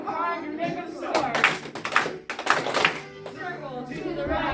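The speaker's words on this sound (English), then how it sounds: "clap your hands so hard you make them sore" Hands clapping in bursts during a lively dance song at a Christmas carol performance, sharp claps landing under and between loud group singing.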